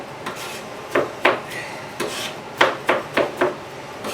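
Bell peppers are chopped for potato salad, with a series of sharp knife strikes on a cutting board coming in an uneven rhythm, close and fairly crisp.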